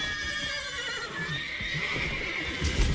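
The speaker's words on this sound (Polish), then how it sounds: "Uspokój koń, Alex." A horse in The Witcher 3: Wild Hunt whinnies in a drawn-out, wavering neigh over a busy, steady background, with a few hoof thuds near the end.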